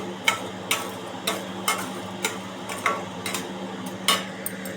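Coriander seeds roast in a pan with a soft steady sizzle, broken by a regular series of light scraping stirs about every half second, close and moderately quiet with no talk.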